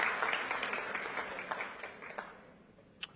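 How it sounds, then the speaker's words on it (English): An audience at a summit plenary session claps, a steady patter of many hands that thins out and fades toward the end, heard fairly faint with little talk. "if we could just give another round of applause for Duwain and the panel"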